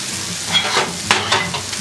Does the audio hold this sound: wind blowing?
no